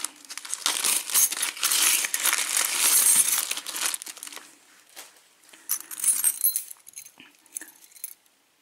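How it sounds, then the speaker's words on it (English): A handful of blank and pre-cut lock keys jangle and clink together in bursts, with crinkling packaging mixed in, close and fairly loud, then settling to quieter rustles. "he sent some pre-cut keys and blank keys, looks like"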